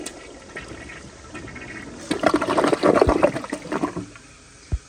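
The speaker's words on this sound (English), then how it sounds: "I'm gonna hold down the handle a little bit longer to how I think it should flush" A 2016 Kohler Highline Class 5 toilet flushes with the handle held down longer: a quiet start, then a loud rush of swirling water for about two seconds that tapers off and ends with a single clunk.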